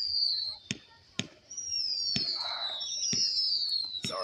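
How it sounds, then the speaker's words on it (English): Small fireworks at a farm show go off as sharp, loud pops spaced roughly half a second to a second apart, over a steady high whistling tone that runs underneath. "Got the little itty bitty baby fireworks."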